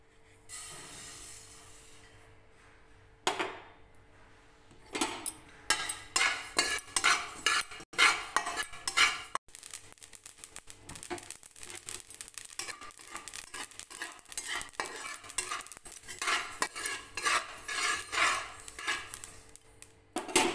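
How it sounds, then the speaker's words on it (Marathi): Sesame seeds dry-roasting in a pan and stirred with a utensil, giving a steady rattling scrape with sharp clinks of metal, after a quiet opening and a brief pause near the start; no talking. "तर आपण थोडीशी तीळ भाजून घेऊयात आधी."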